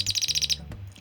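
Vintage Chirp-ee chirping bird Christmas ornament giving a fast run of about eight bright electronic chirps, close and clear, then stopping with a soft click and low hum.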